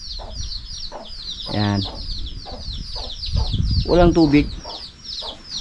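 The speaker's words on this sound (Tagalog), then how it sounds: "Yung mga manok yan, yan po mga natira sa ating mga alaga dito dati." Farmyard chickens, a hen among them, cluck in short repeated bursts nearby, with a few louder squawking calls, while people speak briefly in the background.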